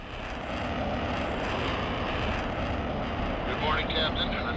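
A fighter jet's engine in Tom Clancy's H.A.W.X gives a loud, steady, close roar that holds throughout and swells slightly near the end.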